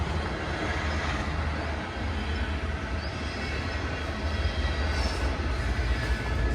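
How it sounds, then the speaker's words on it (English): A train rumbles past nearby, a steady heavy rolling noise with faint wheel squeals, continuous throughout and no talking. "that train had to go by"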